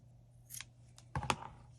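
Scissors cut an elastic baby headband in half for a cloth face mask, a few quiet close snips with a sharper double clip in the middle, otherwise near silence.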